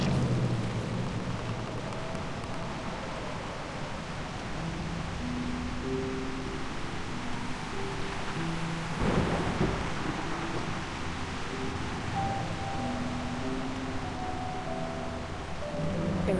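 Steady rain hisses in the video game Reverse 1999, set in an imaginary Paris, with a brief low rumble of thunder midway, heard alone under a faint melodic tone.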